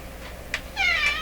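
A pet cat named Peanut meows: one short faint call, then a longer, louder, tonal meow that swells and trails off, close by, with no talking.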